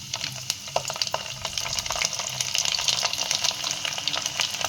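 Garlic frying in oil with mustard seeds and cumin, the base for a bitter gourd pickle: a steady, close sizzle and crackle with small popping spatters, no voices.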